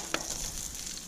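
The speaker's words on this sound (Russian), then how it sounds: "Пусть еще пожарится" Pork neck frying on a GrillChef 12736A gas grill gives a steady, close sizzling hiss with one brief crackle near the start, and no voices.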